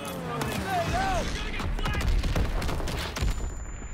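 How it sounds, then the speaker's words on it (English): A grenade explosion and fusillade of gunfire in Call of Duty: WWII ring out in a chaotic battle scene, with shouted voices and rapid crackling shots layered over a deep rumble. "Grenade out! Grenade out!"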